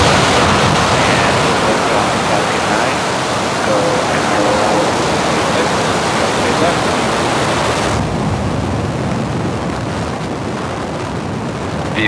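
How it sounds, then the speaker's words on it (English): A SpaceX Falcon 9 rocket lifts off from launch complex SLC-4E with a loud, continuous rumbling roar of broadband noise. The roar holds steady throughout and eases slightly near the end, with no clear voices over it. "Falcon 9 has successfully lifted off from Slick 4E"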